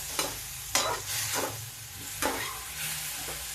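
Pounded coriander and spices stir-fried in a hot pan for a vegetable dish of fenugreek, peas and carrots. A spatula scrapes through several times in uneven strokes over a continuous close sizzle.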